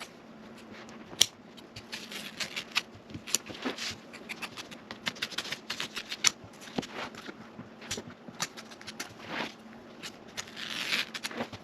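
Scissors trim away excess vinyl-type covering material from a boat seat being recovered, producing a steady run of quick, close snipping and crackling cuts with no talk.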